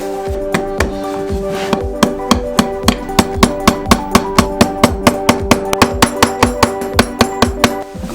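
Hammer blows fold down horseshoe nail clenches on a horse's hoof, striking in a fast, even series of sharp, ringing metallic taps close by with no talking.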